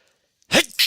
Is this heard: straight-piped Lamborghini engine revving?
no